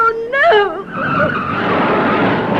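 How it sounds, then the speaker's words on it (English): A car with failing brakes skids loudly, with sharp rising tire squeals at the start that give way to a sustained rough scraping skid, close and dominant. "These brakes aren't working properly."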